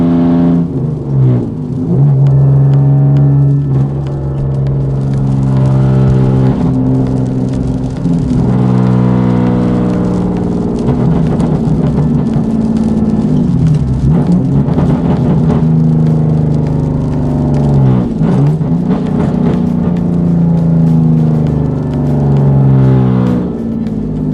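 A Subaru engine, fitted with lightweight pulleys, idles loudly up close and is revved repeatedly, its pitch climbing and falling in several slow sweeps over a steady running drone.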